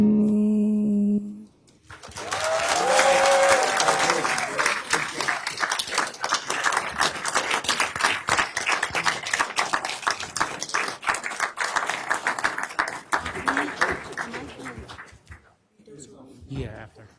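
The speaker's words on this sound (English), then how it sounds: "Can we have another round of applause for Serenity?" An audience at a county board meeting applauds after a live singing performance, with loud, dense clapping that starts abruptly, holds steady for about thirteen seconds, then dies away into a few scattered claps.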